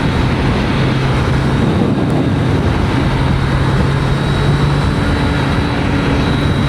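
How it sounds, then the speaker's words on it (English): A motorcycle picking up speed on a highway in fourth gear at around 52 miles per hour, a loud continuous engine drone and wind rush that holds steady throughout, with no talk. "We're picking up speed, fourth gear, 52 miles per hour."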